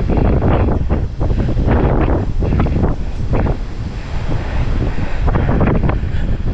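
Strong, typhoon-like storm wind roars across a mountain trail on Mount Amagi, buffeting the microphone in loud, gusting bursts with no speech.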